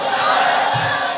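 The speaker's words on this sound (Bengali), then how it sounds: "একটা তাকবীর দিবেন না সবাই মিলে? লিল্লাহি তাকবীর।" A large gathering answers together with a loud, unified takbir shout of Allahu Akbar, a brief roaring chorus of many voices at an Islamic gathering.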